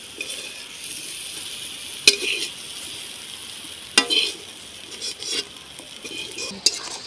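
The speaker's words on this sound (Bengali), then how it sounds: "আমি ওটাকেও এইভাবে ভেজে নেব।" Jackfruit pieces fry in a pan with a steady broadband sizzle, punctuated by a few sharp metallic clinks and scrapes of a stirring utensil against the pan, close and moderately loud with no talking.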